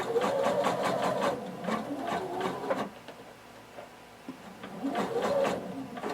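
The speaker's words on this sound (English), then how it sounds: "sewing pretty close to the edge here" Sewing machine stitching close to the edge of a shorts fly, two bursts of rapid mechanical whirring separated by a quieter pause, loud and close with no talk.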